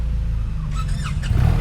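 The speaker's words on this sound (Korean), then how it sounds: "와, 자, 시동을 걸어봤고요." A BMW R1300RT touring motorcycle engine starts and settles into a steady, close, low idle rumble, with a brief higher mechanical whir partway through.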